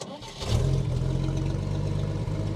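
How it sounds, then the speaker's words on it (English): A 1949 Chevrolet Deluxe, a long-stored survivor car, cranks and catches almost instantly, then settles into a steady, close, rumbling run. "It should not be that easy to start this car."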